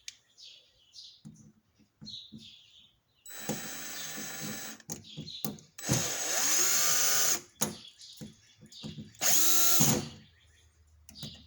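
A power screwdriver drives small screws into a Traxxas RC car, giving several short, loud whirring bursts separated by gaps and clicks.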